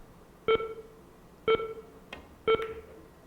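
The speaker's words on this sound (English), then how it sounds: "You'll hear the beeping at 5." Three short electronic beeps at steady one-second intervals, clear and fairly loud over a quiet background, with a faint click between the last two.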